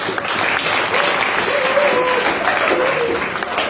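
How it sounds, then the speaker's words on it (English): An audience applauds during a motivational speech: dense, steady clapping fills the whole stretch at an even level, with faint voices or cheers mixed into the wash of hands. "some of you are clapping and getting excited"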